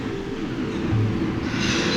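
A train rolls along a railway track in an animated city scene, a steady close rumble of rail wagons with a faint hiss, continuous and alone without any talk.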